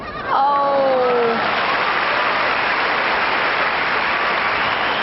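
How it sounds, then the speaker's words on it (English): A Wimbledon tennis crowd applauds on grass court, a dense burst of clapping breaking out after a brief vocal exclamation and continuing steadily for several seconds. "Crowd likes the behind the back try."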